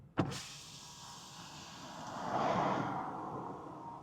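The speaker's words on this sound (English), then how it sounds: "Hey BMW, open the windows." Power windows of a 2025 BMW M5 opening: a sharp click, then an electric motor whir that swells to a peak and slowly fades, heard from inside the cabin.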